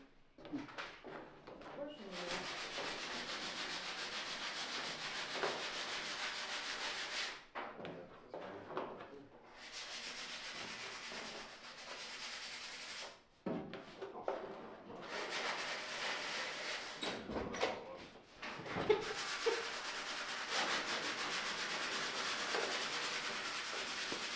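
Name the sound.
sanding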